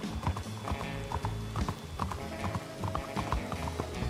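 Horse hooves clip-clop steadily in a western video game, a continuous, close, rhythmic stream of hoof strikes over a dense background of game ambience.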